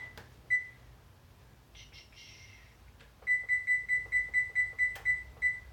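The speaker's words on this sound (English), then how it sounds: "I'm gonna set the timer for that." A kitchen timer gives a single beep and a few short blips as buttons are pressed, then settles into a rapid series of about ten evenly spaced electronic beeps, close and clear in a quiet kitchen.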